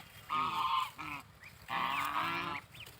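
Geese honk while feeding on fallen grain in a harvested paddy field, two loud nasal calls in quick succession with a brief pause between, fairly close and clear.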